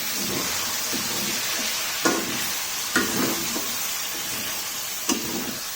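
Ginger garlic paste sizzles in a pan, with steady frying hiss under a few sharp scraping stirs of a spoon, close and clear, no talking.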